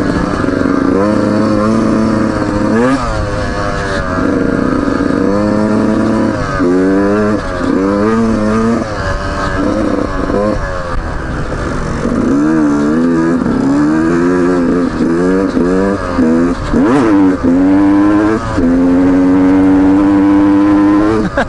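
A 2019 Beta 125 RR Race Edition motorcycle engine buzzes loud and close while being ridden, rising and falling through repeated revs and gear changes with a sharp two-stroke whine.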